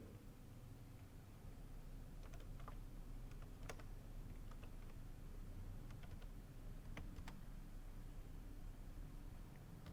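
Keystrokes clatter steadily on a computer keyboard while entering Excel IF formulas, a run of close, quiet clicks over a constant background hiss.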